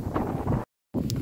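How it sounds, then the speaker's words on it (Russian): Strong wind buffets the microphone in rough gusts, cut by a brief moment of total silence before the roar returns. "Ух и ветерочек, да."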